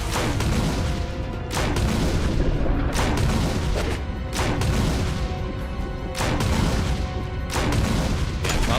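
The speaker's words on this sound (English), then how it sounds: "I got a grenade launcher" Grenade launcher rounds explode in the Resident Evil game, about five heavy booming blasts at irregular intervals, each with a rumbling tail, loud and close with no talk.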